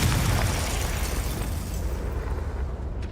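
The Confringo curse goes off in Hogwarts Legacy as a loud, dense fiery blast that fills the whole moment and then roars on as a sustained rumbling burst, heard alone without speech.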